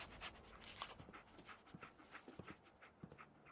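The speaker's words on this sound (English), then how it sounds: "Dog meat. Get the scent, boy." Dogmeat the dog pants in short, quick breaths in Fallout 4, soft and close with faint whimpery edges, alone without talk.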